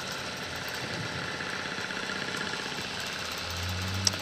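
A computerized quilting machine stitches a circle pattern on a quilt, giving a steady, continuous mechanical motor hum with fine rapid vibration throughout and one brief tick near the end.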